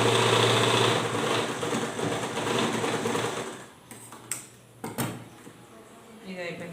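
A sewing machine stitches a frock bodice, its steady whirring hum running for several seconds before it stops, followed by a few short mechanical clicks and knocks as the fabric is handled.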